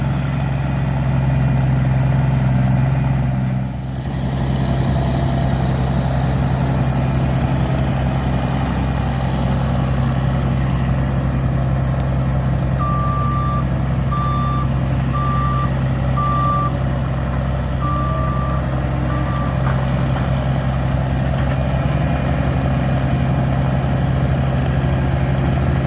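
A log truck idles loud and steady close by while a loader works a set of logs, its engine a constant drone with a string of reversing beeps partway through.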